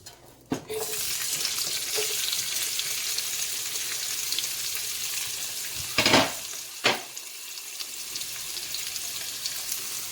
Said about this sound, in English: So now I'm sauteing my peppers, my thyme, my garlic.